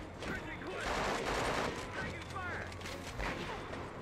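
Rapid gunfire and sustained automatic bursts crackle through a Conflict: Desert Storm 2 battle on PS2, dense and continuous over a low rumble, with faint voices mixed underneath.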